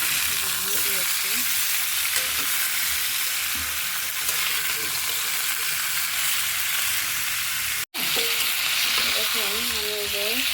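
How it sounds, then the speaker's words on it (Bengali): Boiled ash gourd frying in ghee and being stirred, a strong steady sizzle with intermittent scraping stirs, a brief cut partway through and a voice talking quietly underneath. "ঘি দিয়ে আমি কিন্তু ভেজে নিচ্ছি"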